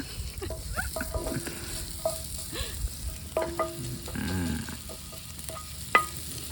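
Mushrooms with garlic and lemon sizzling and being stirred in a pan at a campsite, with scraping stirs and clinks over a steady fry, while people talk nearby.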